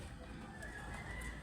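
A pet African bird coos softly and steadily at a distance, a low murmuring call over a constant background hum.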